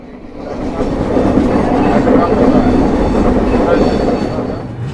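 A passenger train pulling into Udaipur City station, a loud continuous rumble and rattle of wheels and carriages that builds and holds steady, heard from on board.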